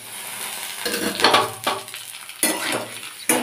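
Small chopped vegetables sizzle in a pan while a utensil stirs and scrapes them in several uneven bursts against the metal. The sound is close and fairly loud, with no voices.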